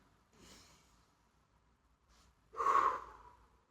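Quiet, close breathing during a morning yoga session: a soft breath around half a second, a faint one near two seconds, then a stronger, louder exhale, with no talking.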